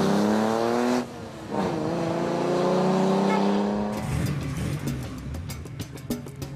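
A Mercedes rally car on the Coppa Costa Smeralda route in Sardinia accelerates hard: a loud, close engine climbs through rising revs, briefly drops off, then pulls again before easing into a rougher, gravelly run at the end.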